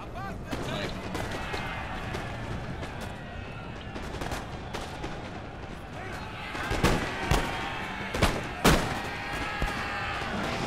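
Musketeer volleys in a Napoleon: Total War land battle at Waterloo, a crackle of distant musket fire building into several sharp louder shots near the end, under someone talking and battle noise.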